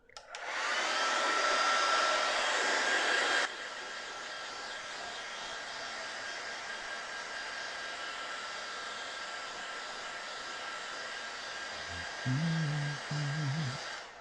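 A hair dryer drying watercolour paint roars loudly up close for a few seconds, then drops to a steady, quieter whir that runs on; a few low thumps near the end.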